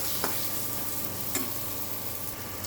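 Kudri sautés gently in a pan: a low, even sizzle runs throughout, broken by two brief clinks from stirring, close by with no talking.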